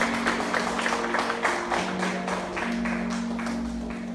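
Spanish-speaking church congregation clapping for the Lord, a rhythmic run of fairly even claps at moderate distance over a sustained low organ-like hum, fading toward the end.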